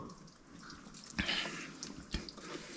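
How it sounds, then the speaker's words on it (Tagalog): Quiet water drips and splashes in an echoing cave, a few sharper drops standing out against a soft trickling background. "Kusugan nagtulo."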